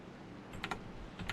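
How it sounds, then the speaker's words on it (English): A computer keyboard clicks in a short quick burst of a few keystrokes over faint background noise. Nobody speaks. "Sorry for the clicking on the keyboard."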